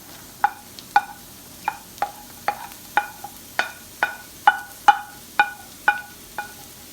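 Vegetables — green onions, green chilies and carrots — stirred in a pan with a spoon, giving a steady series of about a dozen sharp scraping knocks, roughly two per second, over a faint sizzle.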